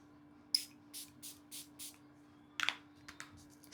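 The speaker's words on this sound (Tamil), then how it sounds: "நான் இந்த வாட்டரை வந்து ஸ்ப்ரே பண்ணிக்கிடுதேன்" A spray bottle of water is pumped at a face during at-home facial hair removal, giving about five quick, evenly spaced misting hisses, then a short cluster of sharper sprays, close by and with no talking.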